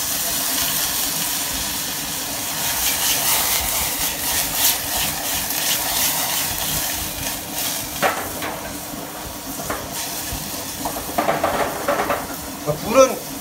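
Soju splashed into a hot frying pan for miso ramen with dried shrimp, bean sprouts and green onion, hissing and sizzling steadily while stirred, with scraping utensil sounds and a louder burst near the end.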